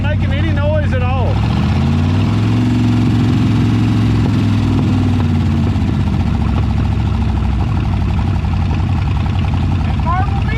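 Engine of a 1973 Mercury Comet GT idling after its first start in 35 years, a loud, steady close rumble running the whole time beneath people talking.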